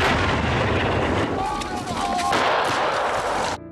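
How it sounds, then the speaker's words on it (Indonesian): Soviet artillery fire near Bryansk rolls through as a dense, loud, continuous rumble of booming blasts that fills the whole stretch before cutting off sharply. "kali ini mereka harus menghadapi serangan artileri dari para tentara Uni Soviet"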